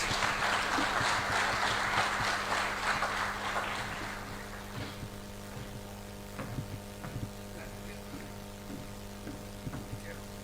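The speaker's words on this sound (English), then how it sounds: "A big round of applause as he comes." An audience at a financial strategy launch applauds the Reserve Bank of Malawi governor. The clapping is dense and fairly loud at first, then thins out and fades to a few scattered claps over a steady low hum from the hall.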